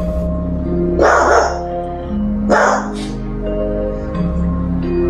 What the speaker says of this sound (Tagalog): Maririnig sa video ang galit ng aso